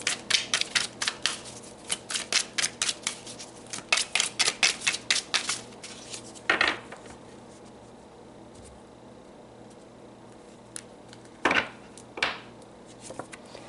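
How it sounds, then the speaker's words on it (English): Tarot cards pulled and shuffled from a deck give a quick run of crisp, papery taps and flicks, then a few isolated card snaps later on, close and fairly quiet with no voice. "So let's pull some more cards."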